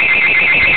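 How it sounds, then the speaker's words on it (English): An alarm sounds with a loud, steady, piercing high-pitched tone that holds without a break, close and dominant. "Oops, that's the alarm."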